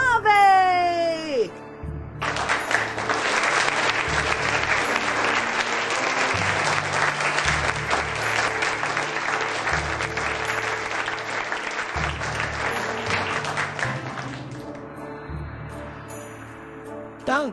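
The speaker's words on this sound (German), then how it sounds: "Einen tosenden Applaus für" A crowd bursts into sustained, loud applause in the 2008 point-and-click adventure game Edna bricht aus. The clapping runs for about twelve seconds over a rhythmic music bed. Brief high vocal sounds come before the clapping, and it fades out near the end.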